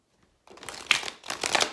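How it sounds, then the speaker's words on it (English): A tarot deck being shuffled by hand, a brief pause and then two papery riffling bursts of cards, close and soft with no voice. "Anyway, so I'm going to shuffle a little bit longer."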